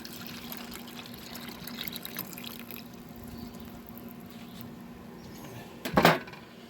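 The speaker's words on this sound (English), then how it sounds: "I'm going to take all of this jus, they call it, pour it in a grease separator." Brisket jus is poured into a grease separator with a faint, steady trickle of liquid in a kitchen, ending in a brief louder knock as the container is set down.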